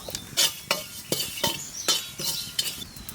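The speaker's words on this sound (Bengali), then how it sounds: "খালি কড়াইতে গোটা জিরে ভাজি নেব" Whole cumin seeds dry-roast in an empty wok, with a spatula scraping and clinking against the metal in repeated sharp strokes about every half second over faint crackling, close up and without talk.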